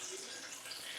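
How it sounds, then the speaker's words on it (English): Rushing water pours steadily for a moment, a broad hissing splash of cooked pasta being drained from a pot into a sink. "So I'm going to take this over here and I'm going to drain it."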